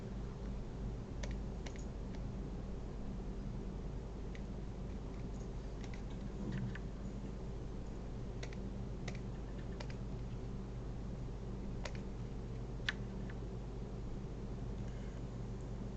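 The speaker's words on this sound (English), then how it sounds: "I hear a lot of clicking from me zooming in and out" Soft, scattered mouse clicks while zooming in and out on a digital drawing during a live art stream, faint and irregular over a steady low hum of room noise.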